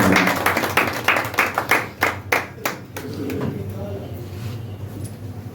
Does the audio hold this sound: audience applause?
yes